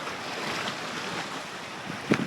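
Strong wind blows across a rocky Jamaican shoreline, a steady broadband rush buffeting the microphone, with a short louder gust at the end.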